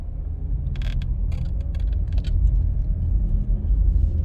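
Car driving along Braemar Avenue in New Kingston, a steady low road rumble and engine drone throughout, with a few faint clicks and rattles from the cabin.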